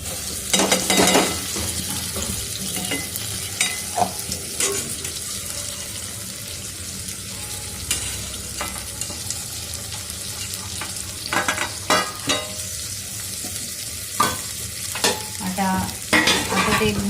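Masala frying in oil with boiled peas added is stirred in a pan, giving repeated scraping strokes and bursts of sizzle over a low background, with quieter stretches between stirs.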